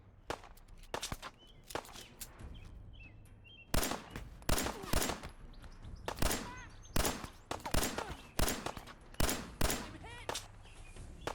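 Gunshots in Fallout 4, a modded build, ring out as sharp, separate cracks, a few early and then a steady run of single shots at close range, with faint talk now and then between them.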